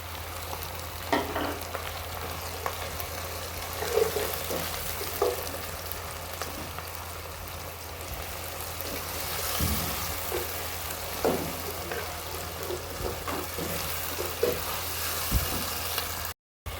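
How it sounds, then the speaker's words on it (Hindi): Chopped tomatoes and green chillies sizzle in a pan with garlic and ginger, a steady, quiet frying hiss with occasional soft stirring clatters and no talk. "अब इसके अंदर हम डालेंगे टमाटर और हरी मिर्चें कटी हुई।"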